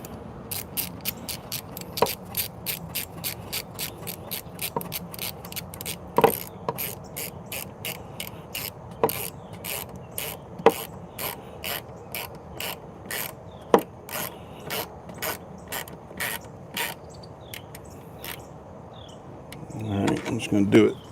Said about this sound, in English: One of them I have to ratchet down because the stud's too long.